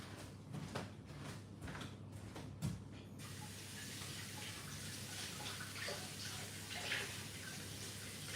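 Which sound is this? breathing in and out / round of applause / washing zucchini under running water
washing zucchini under running water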